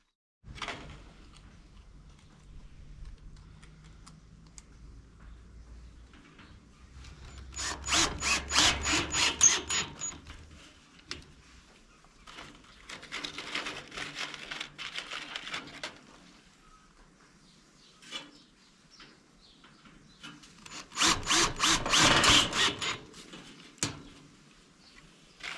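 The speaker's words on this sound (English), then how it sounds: "So it's just a matter of getting the screws now and screwing it all together." A power drill drives screws to assemble a wooden cargo barrier for an FJ Cruiser, with two loud, rattling bursts of a few seconds each and quieter intermittent drilling between them, no talking.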